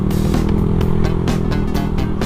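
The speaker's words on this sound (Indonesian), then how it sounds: "Mau coba suara dari knalpot ZRC ini." Honda Beat motorcycle fitted with a ZRC exhaust, revving hard up close with a loud, deep, throbbing engine note that pulses in quick bursts, alone with no talk.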